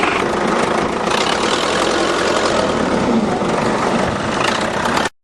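A tractor engine runs at a heavy, steady idle close by, its low rumble continuous for several seconds before cutting off abruptly; it is set to pull a seized van free.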